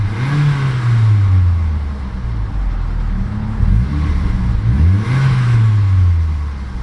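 The exhaust of a 2009 Mitsubishi Lancer Ralliart with a turbocharged inline-4 drones loudly up close, swelling through a few revs that climb and settle back to a rumbling idle.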